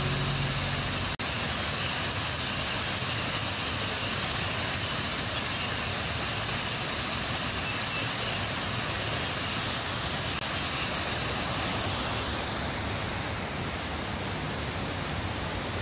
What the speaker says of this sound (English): Ganda, no? Waterfalls.